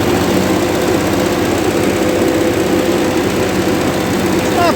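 A 1958 Oliver 550 diesel tractor engine runs loud and close in second gear, a steady, rough, throbbing drone that holds unchanged throughout.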